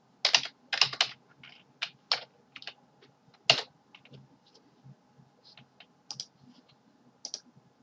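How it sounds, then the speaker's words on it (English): A name being typed on a computer keyboard: irregular bursts of crisp key clicks, some quick runs and some single taps, close and fairly quiet with no talking. "and type your name."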